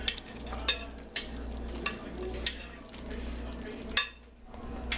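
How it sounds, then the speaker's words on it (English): A spoon stirs thick meat gravy in a pot with a steady low bubbling simmer, giving several sharp scraping knocks spaced about half a second apart, close and moderately loud, with no talking. "now I'm going to take the spoon that I used to stir everything up"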